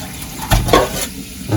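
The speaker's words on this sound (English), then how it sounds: "Then I sieve out the water." Pasta water draining through a sieve in a home kitchen, a splashing, pouring rush with a couple of louder gushes, close by and without talk.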